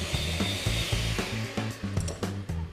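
An electric hand mixer creams 100 grams of unsalted butter with golden caster sugar in a bowl, giving a close, steady motor whine with rhythmic knocking and scraping as the beaters work the mixture.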